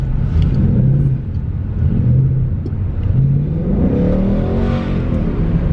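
A 2018 Ford Mustang GT engine in sport mode revs loudly up close, its deep rumble rising and falling in pitch through repeated throttle surges.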